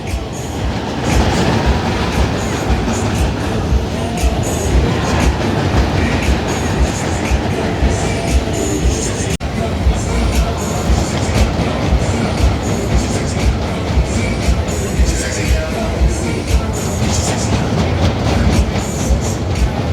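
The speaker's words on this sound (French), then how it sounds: "j'entends un bruit assourdissant. C'est le Bayern Curve, un pop pan de chez Schwarzkopf." Loud continuous rumbling and clattering of a Schwarzkopf Bayern Curve fairground ride at a fair in Troyes, steady mechanical roar with rattling wheels throughout, no voices.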